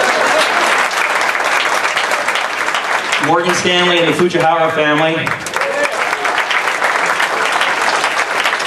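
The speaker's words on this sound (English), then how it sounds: "You can clap." An audience claps for sponsors at a children's alopecia charity spring gala, loud sustained applause filling the room while an announcer speaks over it briefly in the middle.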